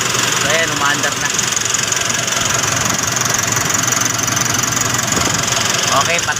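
A Nissan NV350 van's engine idles steadily with a constant low rumble at an oil-change service stop, loud and close, while a person talks over it.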